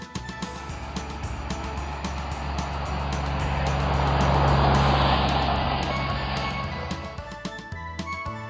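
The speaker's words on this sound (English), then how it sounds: "Tractor with trailer." Tractor pulling a trailer, its engine building to a loud near rumble that swells and fades as it rolls past, with a steady low drone over background music.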